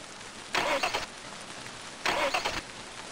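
A car engine in a video game fails to start, giving two short grinding cranking attempts about a second and a half apart, each ending in silence, over a quiet background hiss.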